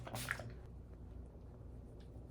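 Antimicrobial skin spray misted onto a face: a short, close hiss near the start, then quiet room tone.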